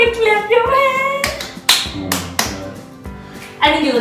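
Hands clapping at a 50th birthday tribute, a few sharp distinct claps mixed with singing voices, loud and close.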